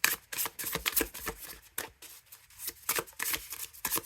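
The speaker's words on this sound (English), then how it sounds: "Although it's nice to shuffle." Tarot cards are shuffled by hand in a series of quick, crisp riffles and flicks, close and fairly loud, with short pauses between bursts.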